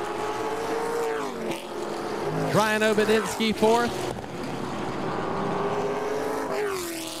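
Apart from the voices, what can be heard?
race cars finishing at Southern National Motorsports Park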